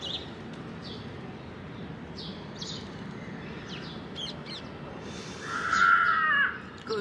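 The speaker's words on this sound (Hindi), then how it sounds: "चिड़ियों की चहचहाट शुरू हो गई है" Morning birdsong on a rooftop terrace: scattered chirps and tweets plus repeated crow caws, some near and some farther off, rising to a louder call near the end over steady background ambience.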